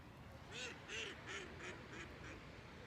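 A run of about six nasal quacks from ducks, evenly spaced and fairly faint, as if a short distance away, with no talking.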